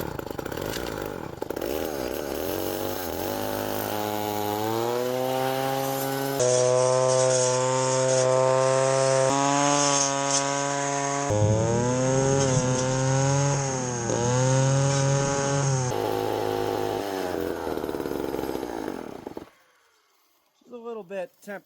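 An old gas string trimmer in an overgrown field runs loud and close, its two-stroke engine rising and falling through several distinct revs with a bit of surge, before cutting out near the end.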